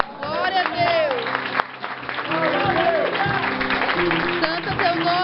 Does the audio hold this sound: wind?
no